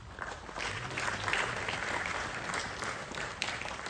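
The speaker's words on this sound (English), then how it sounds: "Let us give a big round of applause to you, Tata Consultancy Services." An audience at a corporate conference gives a round of applause, a steady wash of clapping from many hands that stays fairly distant and even for several seconds without talk.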